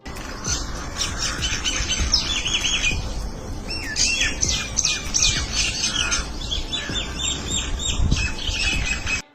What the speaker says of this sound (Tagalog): Tulad ng mga ibon na ito, seryosong seryoso sila sa usapan nila